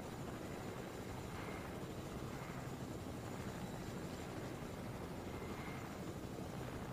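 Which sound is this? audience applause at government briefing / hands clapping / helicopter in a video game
helicopter in a video game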